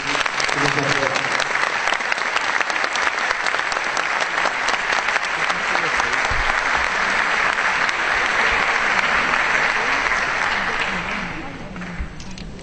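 Sustained applause from a large crowd at a lecture, dense and steady for several seconds, with faint voices underneath, tapering off near the end.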